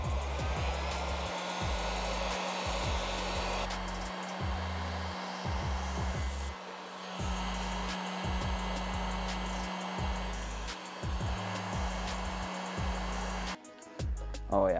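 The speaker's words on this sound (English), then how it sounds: "Now for the rest of this, we'll need a heat gun." A heat gun blows a loud, steady whooshing roar while it warms vinyl graphics on an RM250 motorcycle, running almost continuously with brief dips before cutting out near the end amid some handling noise.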